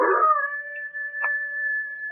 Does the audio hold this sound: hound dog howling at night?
yes